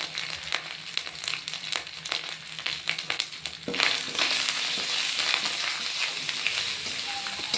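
Ginger with a pinch of turmeric sautéing in hot oil for a cabbage dish, a steady close sizzle with scraping stirs that turns louder and more continuous partway through.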